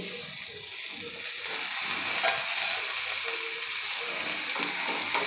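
Drumstick flowers sizzle and get stirred into frying onions in a pan, a steady close crackling hiss with spoon scrapes and no talking.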